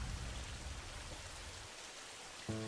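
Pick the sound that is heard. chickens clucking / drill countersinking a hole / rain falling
rain falling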